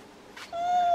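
A single cat meows once, close and clear, rising into a sustained tonal cry that lasts about half a second against a quiet seaside background.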